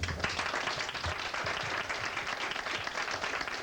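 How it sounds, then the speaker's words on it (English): An audience at a 1991 show claps for a member picked from the crowd, steady, moderately distant applause with individual claps audible, continuous throughout. "Let's give him a nice round of applause"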